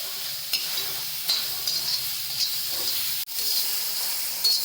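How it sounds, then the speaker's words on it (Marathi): Tomatoes and green chillies roast on a hot iron pan over a medium gas flame, giving a steady close sizzle with soft crackles and a few sharp clicks and pops. "भाजले बघा टोमॅटोचे मिरच्या पण छान भाजल्या"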